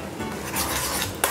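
Ingredients such as garlic, cayenne pepper, diced onion and fresh herbs being stirred into a mayonnaise dip, heard as a steady soft scraping and rubbing of a utensil against a bowl, with a brief sharper clink near the end.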